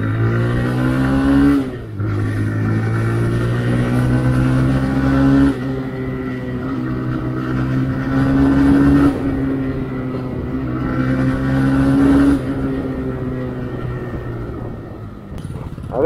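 A TVS Raider 125cc motorcycle accelerates hard along a highway, its engine note climbing through the gears in loud, rising sweeps with brief dips at each shift, backed by steady wind rush and no talking.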